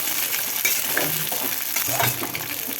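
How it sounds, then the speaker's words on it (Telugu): Sesame powder and green chillies frying in hot oil, a steady close sizzle with faint stirring clinks and scrapes of a utensil throughout. "నూనె వేడైంది వేయించుకోవాలి నువ్వుల పొడిని పచ్చిమిరపకాయలు వేయించుకున్న కారం వేస్తే చాలా బాగుంటుంది"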